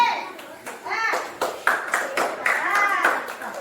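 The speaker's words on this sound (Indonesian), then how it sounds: "Tepuk tangan dulu untuk kelompok B." Scattered clapping from a small group of children after a classroom group presentation, mixed with children's voices and chatter throughout, fairly close and moderately loud.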